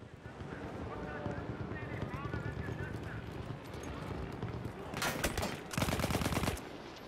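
Gunfire in the World War I shooter Battlefield 1: two dense, loud bursts of shots in quick succession toward the end, over a steady bed of hoof clip-clop and battlefield ambience.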